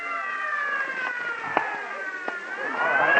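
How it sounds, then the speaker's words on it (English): An ambulance siren wails in an old-time radio detective drama, a steady, fairly loud sweeping tone with faint background murmur. "Clear the way for the ambulance."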